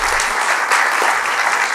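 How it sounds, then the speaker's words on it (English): An audience applauds after a talk, a loud, dense burst of clapping close by that fills the short stretch without letting up. "let's give them a round of applause"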